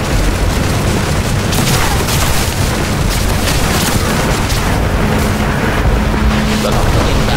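Guns and rockets pound ground targets in the DCS combat flight simulator, a steady, dense roar of blasts and rumbling impacts that keeps running loud through the whole stretch, with no voices over it.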